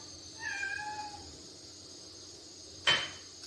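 A hungry house cat gives a short meow in a home kitchen while chicken is being cooked, followed a couple of seconds later by a sharp clink of dishes or utensils.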